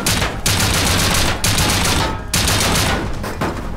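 A shotgun trap fires in the survival game Rust during a base raid, with repeated loud bursts of gunfire.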